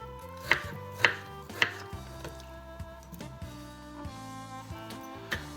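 Several sharp knife chops through kiwis on a cutting board, spaced irregularly and fairly close, with a soft squishy quality and no talking.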